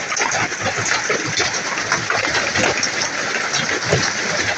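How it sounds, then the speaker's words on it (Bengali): Dense, loud, continuous pelting of hail and heavy rain, a steady roaring patter with no pauses. "প্রচণ্ড শিলাবৃষ্টি"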